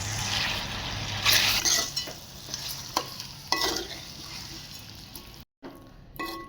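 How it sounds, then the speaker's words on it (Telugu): Chicken with chopped tomatoes and onions being stirred in a hot pan, scraping and sizzling close up in uneven strokes, with a brief silent break near the end before the stirring resumes. "ఇప్పుడు మంచిగా కలిసేంత వరకు కలపాలండి చికెన్"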